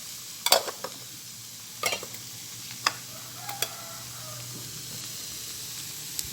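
Duck stir-fried with garlic, shallots and kaffir lime leaves gives a steady low sizzle. A few sharp scrapes and clacks of a spatula against the pan come early on, with quieter stirring knocks later.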